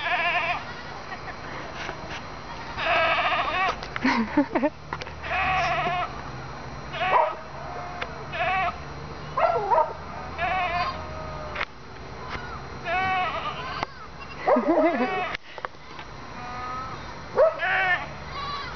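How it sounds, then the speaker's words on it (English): Several goats bleat repeatedly, some close and some farther off, over a steady outdoor background with occasional talking. "these goats sound like Ryan."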